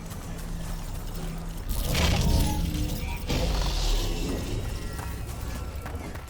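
In Dragon Age: The Veilguard, an artifact is set into a socket mechanism, giving ratcheting, grinding mechanical clunks in two surges over a steady ambient game hum, close and fairly loud, with no talk.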